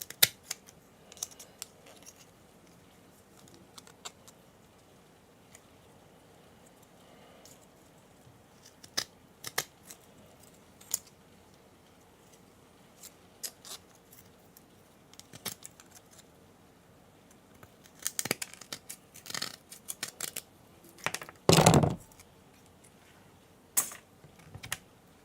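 Snips and clicks of cutting through an electronic circuit board being stripped for scrap metals, scattered sharp cracks and taps over a quiet background with a louder burst of crunching cuts near the end.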